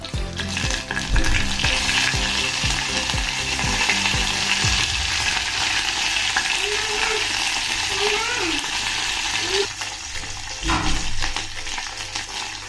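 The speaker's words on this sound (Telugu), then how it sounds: "చూసారు కదా పోపులు బాగా వేగాయి కదా" Tempering of urad dal, mustard seeds, dried red chillies and curry leaves sizzles and crackles in hot oil, with a few stirring clinks at first, then a steady frying hiss.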